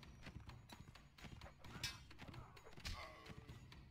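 Rapid, rhythmic hoofbeats of a galloping horse in a video game, with thuds and a brief whinny-like burst over game noise.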